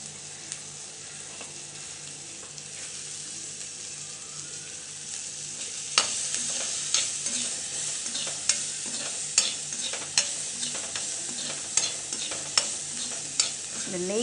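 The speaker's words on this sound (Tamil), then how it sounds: "இந்த நெய்யில் வந்து மிளகு ஜீரகம் வறுக்கிறது" Pepper and cumin fry in ghee, a soft steady sizzle that gains a series of regular scraping clicks from stirring about midway, close and fairly quiet.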